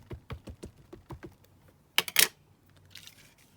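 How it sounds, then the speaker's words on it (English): A letter-type stamp presses onto a laminated paper envelope: a run of light, evenly spaced taps, then two or three sharp, close clacks as the stamp lands. No voices. "So I've got here this letter type stamp. So I'm just going to stamp this on."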